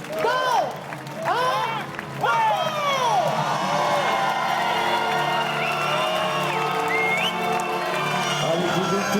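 A large outdoor crowd at the start of an ultra-trail mountain race cheers, whoops and claps. Shouts and whistles rise loudly at first, then settle into a sustained roar of applause and chatter.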